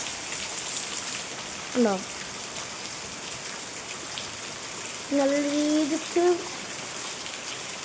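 Steady rain falling on a rainy day, a constant close hiss of drops on surfaces running throughout, with brief bits of speech breaking in over it.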